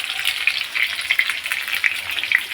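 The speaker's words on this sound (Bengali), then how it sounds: "আলুটা ভাজা বলছি" Potatoes frying in oil for a Bengali meat curry, with a steady, close sizzle and crackle that runs throughout and pops in small bursts, no voices.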